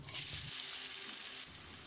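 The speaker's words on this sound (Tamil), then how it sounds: "வெங்காயத்தை நல்லா பொன்னிறமாக வதக்கிடலாம்" Finely chopped onions with fennel seeds, green chili and curry leaves sauté in oil in a pan for a restaurant-style chicken gravy, giving a faint, steady sizzle heard alone.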